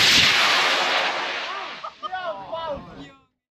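Model rocket launching from a launch pad with a loud roaring rush of exhaust close by, fading over a few seconds while voices call out as it climbs away.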